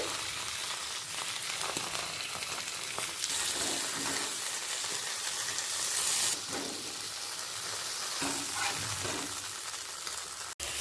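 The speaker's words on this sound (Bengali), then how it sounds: "আমি অপর দিকেও ফ্রাইং প্যানে বাকি বেগুন ভাজতে দিয়েছিলাম" Eggplant pieces frying in oil in a frying pan, giving a continuous loud sizzle and hiss with a few faint clinks, close by and without speech.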